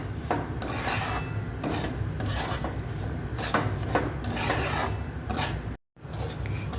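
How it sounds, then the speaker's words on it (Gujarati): Semolina roasting in hot ghee for sheera, stirred continuously with a spoon scraping the pan in steady, rhythmic gritty rasps, close and clear with no talk. "આપણે સૂજીને ઘી ગરમ થાય એટલે બંને વાડકી સૂજી અંદર નાખી દેવાનું અને આવી રીતે મિક્સ કરતા રહેવાનું"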